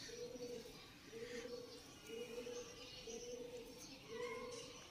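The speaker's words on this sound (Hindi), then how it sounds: "और ये कबूतरी हवाओं को चीरते हुए नीचे आ रही है।" A female pigeon coos in soft, repeated low phrases, roughly once a second, heard faintly at a distance over a windy outdoor background, alone without talk.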